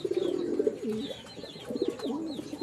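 Red Lahori pigeons coo in a series of close, rolling, throaty calls with brief pauses, a few higher chirps mixed in.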